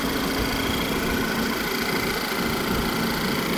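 A white 2008 Volkswagen Passat wagon with 85K miles sits with its engine idling, a steady, even hum and light vibration heard close and continuous with no voices.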